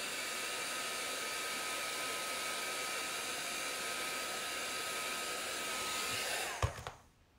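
A hair dryer blows a constant, fairly loud whine and rush while drying chalk paint on a silk screen, then clicks off near the end and the sound dies away abruptly; no speech.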